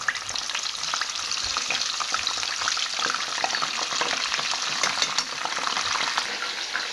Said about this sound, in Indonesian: Mau gorengin anakku.